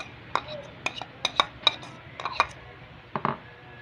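Spoon clinking against a bowl while mixing flour, malunggay, grated potato, onion and garlic, a series of sharp metallic taps in an irregular rhythm, close and fairly quiet, with some talking around them.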